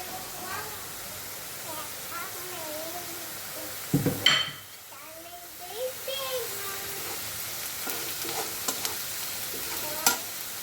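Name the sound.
frying in oil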